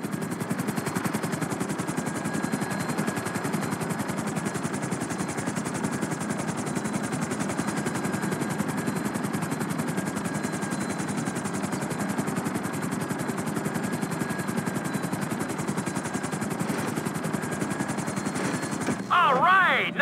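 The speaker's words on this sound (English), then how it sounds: "Bring the helicopter down gently onto the helipad." Helicopter in the video game GTA V setting down onto a helipad during air training, a steady loud rotor and engine drone running throughout with game music or ambience underneath, briefly shifting near the end.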